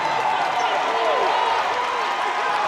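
Crowd at a women's college volleyball match, Rice against Baylor, raising a loud, continuous roar of cheering that fills the arena, with a commentator talking over it.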